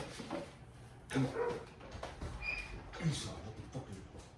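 A dog barks and whimpers indoors in short, irregular yelps and whines, faint and close, with someone talking around them.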